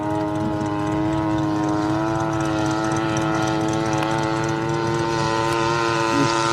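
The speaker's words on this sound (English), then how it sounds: "massive radial engine Corsair flying again at his field" A radio-controlled Corsair model plane with a large radial engine flies overhead, giving a steady, loud, even engine drone that holds at a constant level with no talk.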